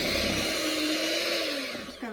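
An electric mixer whirs steadily as cream cheese is blended with red velvet cake mix, a close, continuous motor drone that slowly winds down near the end.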